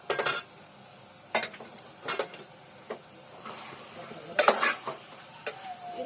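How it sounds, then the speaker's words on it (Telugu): A spoon stirs ridge gourd pieces with turmeric in a pan, producing irregular close scrapes and metallic clinks in short bursts over a faint background. "ఒకసారి కలిపేసుకుంటాను బాగా"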